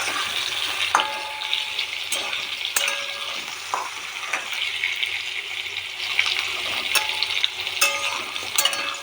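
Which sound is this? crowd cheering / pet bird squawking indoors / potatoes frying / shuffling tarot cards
potatoes frying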